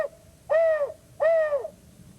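A person imitates great horned owl hoots with a hoop flute call, giving two clear, evenly spaced hollow hoots, each about half a second long, close and loud against a quiet background.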